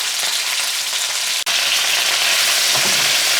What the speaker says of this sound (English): we're just going ahead and giving our meat another little stir here